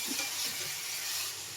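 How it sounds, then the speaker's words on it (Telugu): Prawns stirred in a pressure cooker pot for prawn pulao, a steady close scraping and sizzling hiss that runs throughout, ending in a sharp knock. "బాగా కలుపుకోవాలి."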